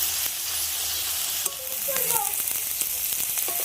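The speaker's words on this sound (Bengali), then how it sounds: "এরপরে দিয়ে দিচ্ছি গুগলিগুলোকে এই তেলের মধ্যে দিয়ে দিচ্ছি। এগুলোকে একটু ভাজা করে নেব" Freshwater snails (googli) drop into hot oil in a pan for fritters, giving a loud, steady sizzle throughout with a few light clicks and scrapes from stirring.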